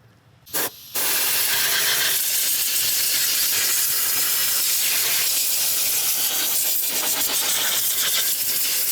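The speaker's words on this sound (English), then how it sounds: "We want to take a blow nozzle and blow any dirt or debris out from around the corners here" A compressed-air blow nozzle blasting dirt and debris off a Subaru TR580 transmission, a loud continuous hiss that starts after a short puff and runs steadily to the end.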